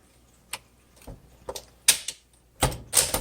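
Sharp mechanical clacks of a 1963 Smith Corona Sterling 5AX typewriter's keys, struck one by one in an uneven rhythm, growing louder and denser toward the end, close up.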